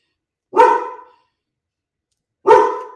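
A dog barks twice, with about two seconds of silence between the barks. Each bark is sharp, loud and close.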